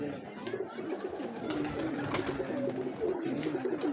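Breeder pigeons cooing in a loft, a continuous low rolling coo repeated throughout at close range, with faint voices and movement around them.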